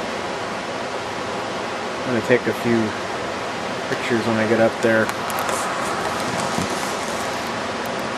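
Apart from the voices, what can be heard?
small waterfall at a dam on the Santiam River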